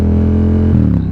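A Yamaha XSR700 with a Two Brothers SR1 exhaust gives a loud, close engine roar that holds steady, then the pitch shifts and settles as the revs change.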